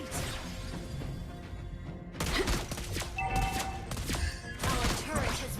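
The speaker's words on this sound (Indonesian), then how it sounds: "Our turret has been destroyed." A turret is destroyed in the mobile battle game Mobile Legends, with loud crashing, thudding impacts and whooshing effects in dense bursts, plus a brief clipped game voice announcement.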